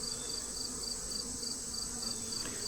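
Bees crowd inside a hive box with an open bottom board, giving a steady close buzz with a faint repeating high chirp running through it, no voices.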